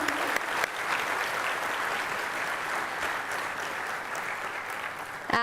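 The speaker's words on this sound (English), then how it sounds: "Let's have a round of applause, ladies and gentlemen" A round of applause from a large audience at a closing ceremony in New Delhi, steady continuous clapping that holds for several seconds at a moderate level before tapering off at the end.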